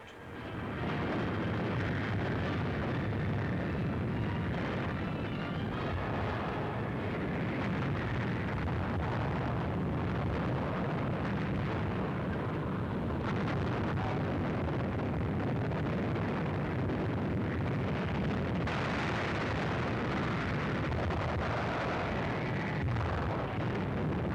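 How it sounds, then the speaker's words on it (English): Allied warships firing big guns at the fortress batteries of Cherbourg in 1944, heard as a dense, continuous roar of heavy booming blasts and rumble, loud and sustained throughout with no talk. "Allied warships move into range of enemy fire and turn their big guns against the fortress batteries of Cherbourg"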